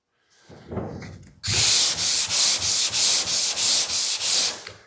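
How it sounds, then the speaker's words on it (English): Sandpaper on a block rasps over polyester primer on a 1940 Ford in rhythmic back-and-forth strokes, about nine loud scratchy passes close up, after a few light taps and rubs at the start. "You want the sandpaper to cut any highs off, slowly bring the surface downward."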